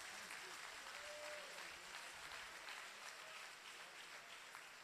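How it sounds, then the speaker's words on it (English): A lecture audience at a university inaugural lecture claps in sustained, even applause that carries on throughout without a break. It sounds moderately distant. "Please, can we give him a resounding applause?"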